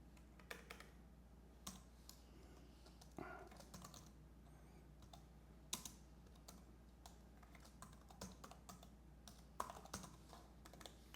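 Typing on a Bluetooth computer keyboard, quiet and close, with irregular key clicks and occasional sharper taps scattered throughout, no talking.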